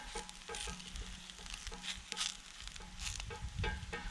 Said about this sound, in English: If you haven't tried fried dim sims in the frying pan on the campfire, you're missing out.